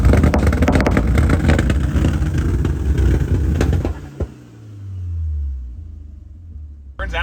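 A car engine held on launch control roars loudly and steadily at high revs for about four seconds, then cuts off and sinks into a lower, wavering rumble that settles toward idle.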